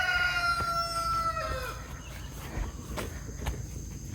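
Free-ranging chickens cluck and call nearby in short bursts, with a drawn-out crowing cry at the start and a steady chirring of insects underneath.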